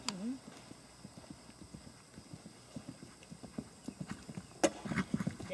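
A ridden horse canters in a riding demonstration, its hoofbeats a steady rhythmic clip-clop at moderate distance, faint overall, with a couple of louder thuds near the end and people talking over it.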